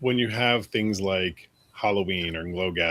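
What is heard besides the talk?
No everyday noise stands out behind the speech.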